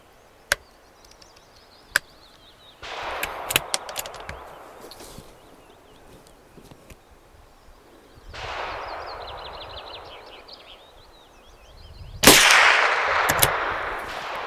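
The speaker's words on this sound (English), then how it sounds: "I'm shooting now because it's probably gonna go high" A Tikka T1X .22LR rifle firing CCI Stinger rounds outdoors: two sharp, isolated cracks early on, then scattered sharp reports amid rustling and wind noise, with a louder burst of noise near the end.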